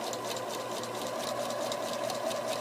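A sewing machine stitching fabric for baby legs hums steadily with a fast, even rhythmic whir of the needle, continuous and close throughout.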